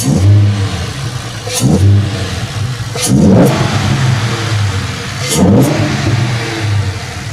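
A Ford Mustang engine with an Airaid cold air intake revs up three times in repeated bursts, each rising roar falling back to a throaty idle, loud and close.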